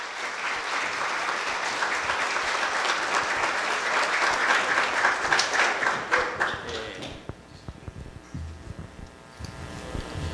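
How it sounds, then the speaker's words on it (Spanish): Audience applause fills a university hall at Universidad Tecnológica de Santiago, Recinto Gaspar Hernández, during a gift presentation to guests: dense, steady clapping for about seven seconds, then thinning to scattered claps and faint room noise. "Vamos a darle un aplauso, por favor."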